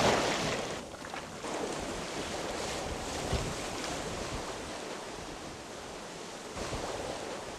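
Waves at low tide wash and splash against a rocky shore where crabs bask, giving a continuous, loud, broad rushing with some wind buffeting and no voices.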